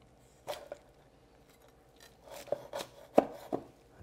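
A knife cuts through the wing joint of a Cantonese roast duck, giving a few sparse, quiet cracks and taps against a cutting board, close and without speech.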